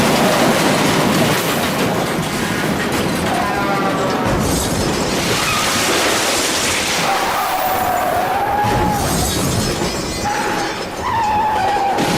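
A train rolls past close by, a loud, steady rumble and clatter of wheels with high metallic squeals rising and falling above it, holding strong for the full stretch.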